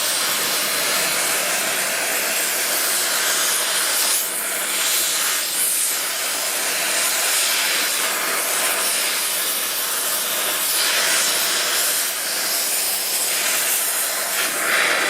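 A torch heats a steel rear axle part from a Ferguson FE35 tractor to bright red, producing a steady, close roaring hiss that runs unbroken throughout with slight swells and no voices.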